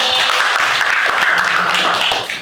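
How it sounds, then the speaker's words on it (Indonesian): A classroom of students claps together in a short, loud burst of steady applause that fills the whole moment before fading slightly at the end. "Oke, tepuk tangan untuk kalian"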